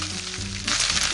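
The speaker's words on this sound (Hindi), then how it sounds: "घी हमारा अच्छे से गर्म हो चुका है, तो इसमें हम ये जीरा डाल देते हैं, हींग भी डाल देते हैं" Cumin, asafoetida, ginger, garlic and green chili sizzle in hot ghee for pav bhaji, a close, steady frying hiss that swells louder partway through as more ingredients hit the pan.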